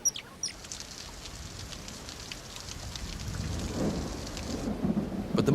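A heavy downpour with thunder in the Musiara marsh area, steady rain hissing throughout while low rumbling thunder builds and grows louder toward the end.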